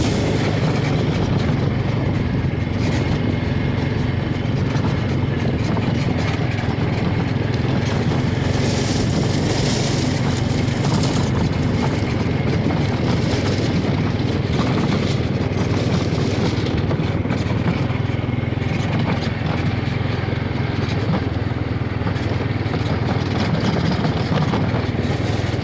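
Two Honda jet skis race side by side on water, their engines a continuous, loud, even roar with wind and spray noise that barely changes across the whole stretch.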